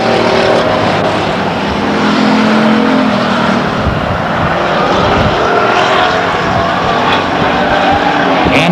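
Race cars roar around the Stockton 99 Speedway oval in a 1999 race, a loud continuous engine drone with rising and fading passes and no pause.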